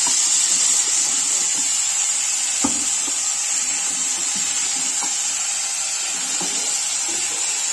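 Eggplant and potato frying in a pan, a steady loud hiss of sizzling oil running without break, with a few faint clicks of stirring underneath.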